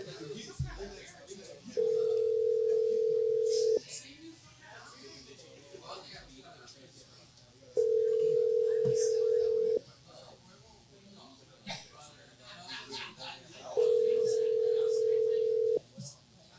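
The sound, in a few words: telephone dial tone while calling someone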